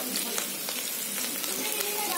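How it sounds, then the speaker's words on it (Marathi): Potatoes fry in oil over a full gas flame, giving a dense, even crackling sizzle throughout at moderate loudness, with no talking heard. "बटाटी फ्राय करायला बघा 7 मिनिटं झाली"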